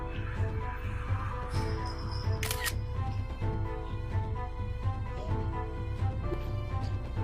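A camera shutter clicks during a photo being taken, brief sharp clicks over a steady low hum in a fairly quiet room, with no one talking.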